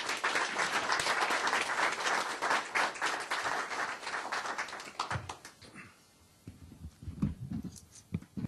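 Audience applause welcoming Dr. William Dennis at a Wednesday Wake-up Club breakfast, dense loud clapping that thins out into scattered claps and small room noises toward the end.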